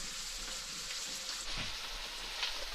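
Food stir-frying in a wok on a camper-van stove in bitter cold, a steady dense sizzle and crackle running throughout, close and continuous with no voices.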